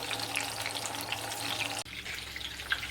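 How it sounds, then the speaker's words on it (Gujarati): Whole onions shallow frying in a pan, a soft, fairly quiet hiss of hot oil with faint clicks as they are turned, dipping briefly midway before continuing. "તેને ફેરવતા જઈ અને આપણે સેલો ફ્રાય કરી લઈએ"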